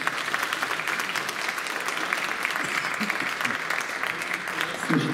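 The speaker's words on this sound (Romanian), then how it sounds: "Aplauze pentru acești copii minunați." Steady applause from an audience at a Roma Liberation Day celebration in Bacău, honouring children, a dense even patter of many hands throughout, with faint voices mixed in.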